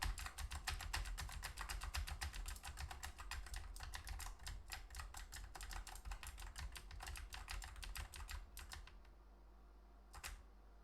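Rapid, steady typing on a computer keyboard, dense clicking keystrokes running close and continuous for about nine seconds, then stopping with a final isolated tap near the end.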